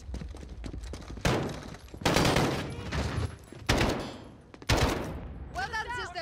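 Gunfire in the Call of Duty: Modern Warfare campaign comes as four loud, separate volleys of rapid shots with short gaps, and voices are heard between the bursts.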